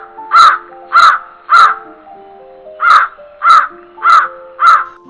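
Cartoon crows give harsh, loud caws in two bursts: three evenly spaced calls, a short pause, then four more, up close with no talking.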